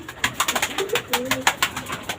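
Pigeons coo in a soft, repeated rolling rhythm, close by and fairly clear, with quick fluttering or scuffling sounds around them and no talk.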